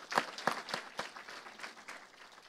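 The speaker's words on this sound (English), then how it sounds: "So a quick round of applause before we get into that." Scattered applause from a town hall staff meeting, a few distinct claps at first and then thinner, uneven clapping that fades quickly, fairly quiet and without any speech.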